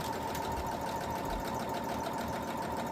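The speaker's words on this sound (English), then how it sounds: "grab up one that you've already marked and just sew along the line" A sewing machine runs steadily while stitching fabric along a marked diagonal line during quilting, a constant close mechanical whir with no pauses or talk.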